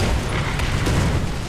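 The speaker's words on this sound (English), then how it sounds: "Artillery strike." An artillery strike lands in a tank video game, a loud broadband explosive rumble sustained for about a second and a half, with a sharper burst near the middle.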